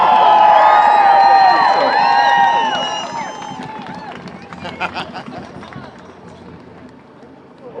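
A crowd cheers and whistles loudly as a retired OPP officer is called to the stage at an outdoor rally, the roar peaking at first, then fading into scattered shouts and claps.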